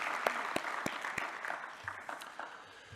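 A forum audience at a science and innovation closing ceremony gives brief, moderately faint applause, with a few distinct claps standing out early and the clapping thinning out toward the end.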